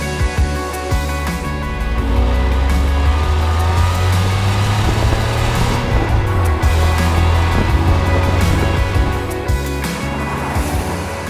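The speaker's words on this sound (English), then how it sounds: "this incredible 850 CSI, which didn't come with a V8, but a V12, a rather special V12 too" A BMW 850CSI with a V12 engine drives close by, its engine note rising and holding as it accelerates, a loud steady drone with shifting pitch and no talk.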